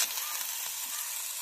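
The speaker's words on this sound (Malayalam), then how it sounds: "അപ്പോൾ ഞാൻ ഈ ബീൻസ് വേക്കിട്ട് കൊടുത്തിട്ട് അത് നല്ലൊന്ന് മിക്സ് ചെയ്തെടുക്കാം" Beans stirred and mixed in an oily frying pan for a vegetable mixed pickle, giving a steady close sizzle with soft scraping throughout and no voices.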